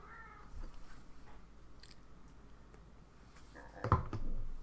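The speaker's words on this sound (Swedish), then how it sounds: "Och nu vill min katt ut förstås." A house cat meows to be let outside, a couple of short cries early and a louder, clearer meow near the end, close by in a quiet room.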